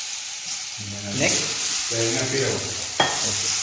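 Ripe banana pieces dropped into hot ghee hiss and sizzle in a pan, with brief stirring clinks and a sharp tap near the end, close and fairly loud.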